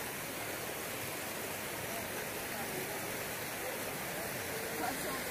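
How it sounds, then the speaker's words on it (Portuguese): Floodwater surges into a lagoon after heavy rain, a steady, dense rushing roar like a waterfall that stays constant and fairly close throughout. "A lagoa aqui chegando, a água."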